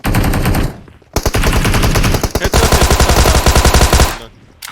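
Rapid automatic gunfire in the shooter game PUBG Mobile, with a Thompson submachine gun in play: loud, dense bursts of shots in three long volleys separated by brief pauses, no talk over them.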